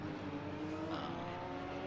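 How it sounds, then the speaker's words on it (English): A Porsche race car engine in a racing video game drones at steady high revs with a buzzy, harmonic tone, moderately quiet and continuous. "this Porsche is really loud"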